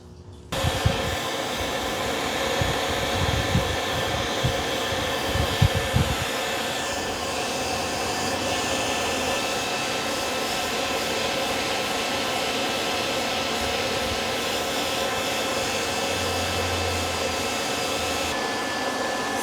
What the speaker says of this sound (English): So fluffing the hair with the brush while you're drying will help dry the hair faster.